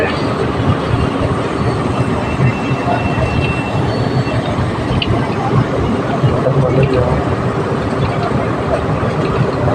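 A light rail (LRT) train rumbles past a station entrance gate in a steady, loud, continuous wash of rail noise, with faint background voices mixed in.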